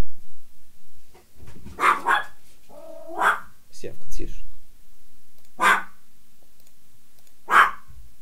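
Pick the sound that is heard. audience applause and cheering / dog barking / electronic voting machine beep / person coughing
dog barking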